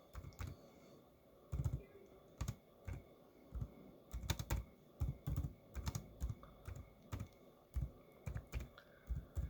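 Keys clatter on a computer keyboard in short irregular bursts of close, crisp clicks separated by brief pauses, with a quiet room tone underneath.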